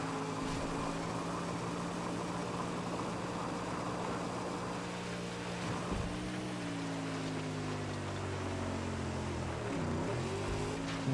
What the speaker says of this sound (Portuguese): Dois motores de V8.